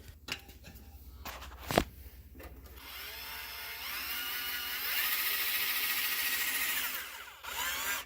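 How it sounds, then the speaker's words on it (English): A power drill with a bent bit whirs steadily for several seconds while drilling holes during a Vance & Hines muffler fit on a Ruckus clone scooter, winding up and holding a high buzzing pitch, after clattering handling noises and footsteps. "Open this bitch up and drilling some holes."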